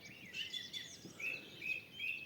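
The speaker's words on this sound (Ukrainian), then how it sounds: "Але птахи співають." Songbirds chirp and whistle outdoors on a frosty spring morning, several thin bright calls repeating in short phrases at moderate distance, fairly faint and without talk.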